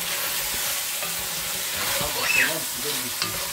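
Beef bourguignon is stirred in a pot, with a continuous close sizzle and bubbling hiss plus a few soft scraping strokes, fairly loud and steady, with a faint voice in the background.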